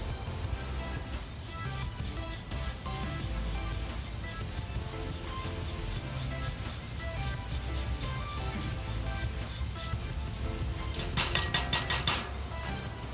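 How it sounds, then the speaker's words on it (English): Lime zest being rasped on a hand grater, a close, steady rubbing scrape that runs throughout, ending with a short burst of quicker strokes. "Then we're going to grate our lemon."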